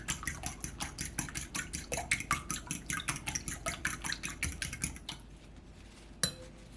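A whisk beats eggs with salt and pepper in a bowl for Korean breakfast toast, making quick, even metallic clicks against the bowl for about five seconds before stopping. A faint tap follows.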